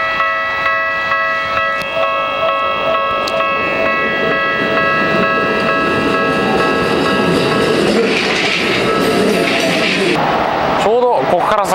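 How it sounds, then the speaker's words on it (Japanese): A Keikyu Line train rolls past loudly and steadily with a long sustained tonal whine from the cars, ending in a brief rising squeal. "列車の本数が多くてなかなか渡れませんよね"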